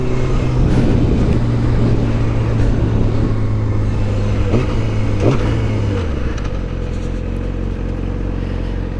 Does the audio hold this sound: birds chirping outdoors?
no